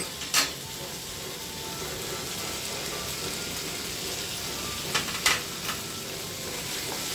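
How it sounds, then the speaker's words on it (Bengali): Mustard paste added to potatoes and eggplant frying in spiced oil, a steady soft sizzle running throughout, with a few brief louder crackles and scrapes near the start and toward the end. "এবার আমি যে সর্ষে বাটাটা রেখেছিলাম সর্ষে বাটা এটা দিয়ে দেব"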